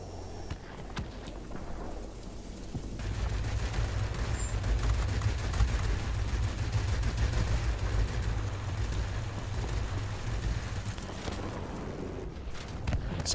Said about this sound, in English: Got a bit of flak coming in.